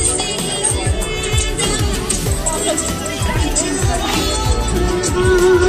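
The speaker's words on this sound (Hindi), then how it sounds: "यहाँ दुकानों पे लगी हुई भीड़, लोग कर रहे खरीदारी" Shoppers crowd the stalls at the Lavi fair in Reckong Peo, where iron and steel goods are sold. A dense babble of many voices and footsteps fills the air, with nearby speech over the general hubbub of the busy market.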